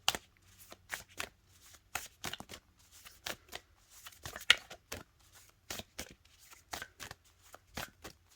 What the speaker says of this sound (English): I'm going to pull one more card, and this is going to be from the Goddess, Gods, and Guardians deck by Sophie Bashford.